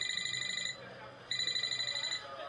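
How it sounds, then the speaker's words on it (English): A telephone rings loudly in two bursts of rapid, trilling bell tones, separated by a brief pause, with no other sounds in the background. "my telephone started ringing"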